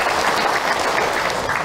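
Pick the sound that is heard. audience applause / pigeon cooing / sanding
audience applause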